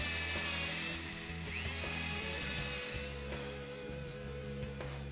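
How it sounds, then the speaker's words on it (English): A power drill pre-drills holes with a 1/8 inch bit, a whirring motor spinning up and bogging slightly as it bites, close and fairly loud with no talking. "pre-drill the holes with an 1/8 inch bit"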